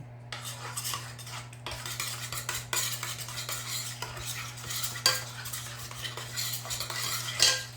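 A utensil stirs steamed bun dough ingredients with butter and salt in a bowl, producing repeated scraping and clinking close by over a steady hum, with no voices.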